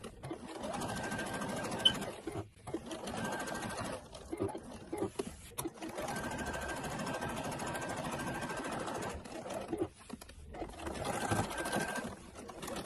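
A sewing machine stitches the shoulder seam of a girl's burqa in long runs of fast, steady whirring broken by short pauses, close and clear, with faint sounds of handling the cloth between bursts.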